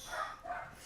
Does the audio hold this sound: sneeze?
no